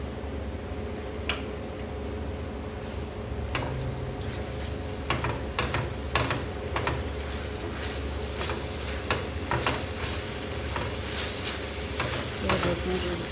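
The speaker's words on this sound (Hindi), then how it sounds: "अब हम इसको अच्छे से जो है इसकी भुनाई कर लेंगे" Kaleji masala of goat liver being stir-fried in a pan, a steady close sizzle with scraping stirs and clicks of the spatula recurring throughout, loud and continuous with no talking.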